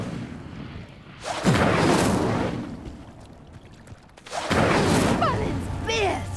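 Fire spell Incendio igniting a pyre in the video game Hogwarts Legacy: loud booming, crackling bursts of flame, with a second whooshing blast later, layered with game sounds and a voice speaking.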